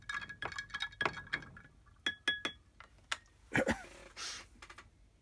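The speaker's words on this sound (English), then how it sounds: "Give a bit of a stir." Plastic pieces being stirred in a container of water during a sorting test of PP, LDPE and HDPE, with scattered light clinks, knocks and splashy swirls in an irregular rhythm, fairly close and quiet.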